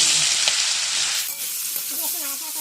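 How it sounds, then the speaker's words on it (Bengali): Amla fruit frying in a little white oil in a kadai with bay leaf and two split dried chillies, a steady loud sizzle with brief stirring clatter, close and continuous without talk. "কড়াইতে দিয়ে দিচ্ছি তেজপাতা, দিয়ে দিচ্ছি 2টো শুকনো লঙ্কা চেরা, দিয়ে আমলকি দিয়ে দিচ্ছি।"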